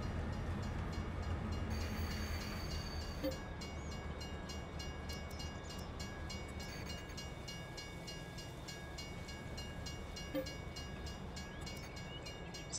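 A train in the farming game Farming Simulator 22 rumbles steadily throughout, a continuous low mechanical drone with faint rail clatter and a thin high tone, fairly loud and with no talk.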